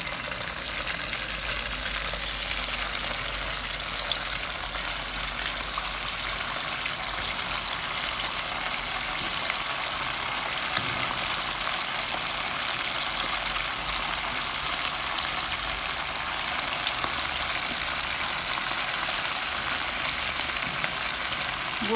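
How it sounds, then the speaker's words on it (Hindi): Marinated chicken pieces for restaurant-style chilli chicken deep fry in hot oil in a wok, producing a continuous, fairly loud hissing sizzle that stays even from start to finish. "अब हम इसको डीप फ्राई कर लेंगे।"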